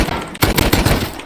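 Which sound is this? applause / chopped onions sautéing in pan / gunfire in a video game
gunfire in a video game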